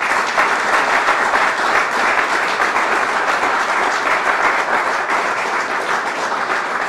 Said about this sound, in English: Could I have a final round of applause for the class of 2017?